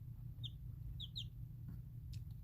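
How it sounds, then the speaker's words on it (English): Young chicks chirping softly in a brooder, a few short high peeps and a brief double chirp over a steady low hum, faint and close. "Little chirps of apology."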